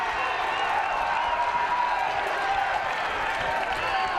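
A steady, distant crowd roar fills a Philadelphia Passion women's football game against the Jacksonville Breeze, a constant wash of voices and faint cheering with no break.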